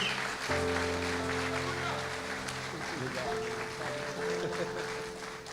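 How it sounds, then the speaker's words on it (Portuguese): Applause from a church conference crowd, a steady wash of clapping under sustained organ or keyboard chords, with a voice briefly heard over it. "Essas palmas são para Jesus"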